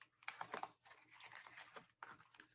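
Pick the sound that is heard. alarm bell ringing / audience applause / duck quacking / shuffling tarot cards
shuffling tarot cards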